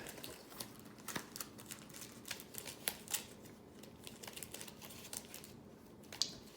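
Decks of cards for the Mage Knight board game being shuffled at a table, quiet crisp riffles and taps repeating in short irregular bursts, with no talking.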